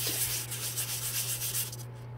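Steady scratchy rubbing of fine-grit sandpaper over a cooler lid, close and continuous with a constant low hum underneath, no talking.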